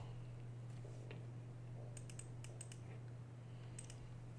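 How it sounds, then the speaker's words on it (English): Someone types a Linux command on a computer keyboard: quick clusters of crisp keystrokes, a short burst and then a few more taps, set against a steady low electrical hum with no voices. "so you type yum list"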